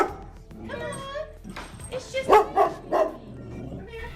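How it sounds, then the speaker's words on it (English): A dog reacts to someone entering the room with a string of whimpers, yips and short barks, close and excited, rising to louder barks toward the end. "watch how Chip reacts when Tammy's son walks into the room"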